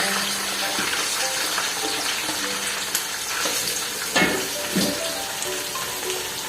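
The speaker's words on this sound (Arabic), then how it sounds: "دلوقتي هبدا احمر البصل بتاع المجدره معاكم." Onions fry in a pan for Palestinian mujaddara, a steady close hiss and sizzle with a few louder pops and spatters.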